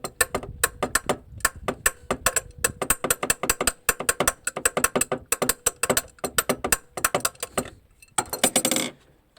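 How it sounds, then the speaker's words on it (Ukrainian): A bolt being turned with a ratcheting tool on a car starter, a rapid run of sharp metallic clicks in uneven bursts, close and clear, with a brief grinding rasp near the end and no talk. "крутимо болт, стараємося прокрутити його, але він чогось то не крутиться"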